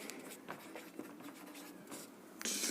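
Chalk or marker scratches across a board during a maths lesson in soft, irregular strokes with faint taps, fairly quiet throughout and no speech.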